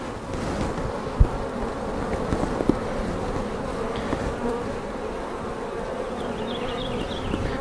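Honeybees hum in a dense, steady drone close by during a spring hive inspection, with a few faint knocks from frames being handled.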